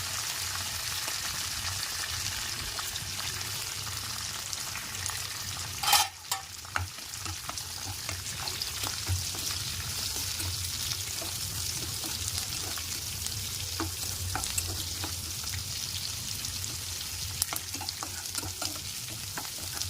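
Onions fry in a pan for wheat rava upma with a steady, close sizzle that runs throughout, broken by a few stirring scrapes and clinks of a spoon.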